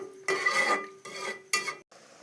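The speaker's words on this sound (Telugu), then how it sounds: "ఇక మంచిగా కలుపుకుందాం." Tomato rice in a pot being mixed with a spoon: three scraping, clattering strokes against the metal, close and distinct, each followed by a short pause.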